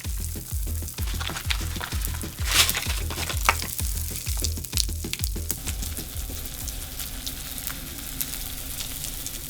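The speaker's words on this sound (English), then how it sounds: "I am loving the sizzle and pops." Pop rocks crackle and sizzle inside slime in a dense, continuous fizz of tiny pops, with soft rhythmic squishing thumps from the slime being worked for the first several seconds, then a steadier close hiss.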